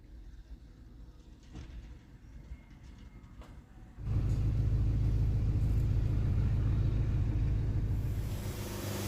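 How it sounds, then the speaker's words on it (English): A bus pulls up on a UK road, its deep engine rumble jumping in loudly after a quieter stretch and holding steady at close range, with faint lighter traffic noise before it arrives. "Here comes the bus."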